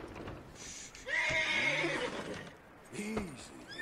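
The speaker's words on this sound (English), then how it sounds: "Hold left trigger to focus on the horse. Press X to calm the horse." A horse in the video game Red Dead Redemption 2 gives a loud, close whinny lasting about a second, followed by a shorter snort or second neigh, with faint game ambience around it.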